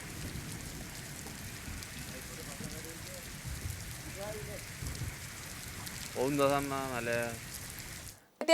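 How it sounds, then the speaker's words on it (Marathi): Heavy monsoon rain pours in a steady, dense hiss in Akot taluka, Akola district, Maharashtra, and a voice speaks briefly near the end before it cuts off. "अकोट तालुक्यामध्ये काही भागात अगदी मुसळधार पाऊस झालाय"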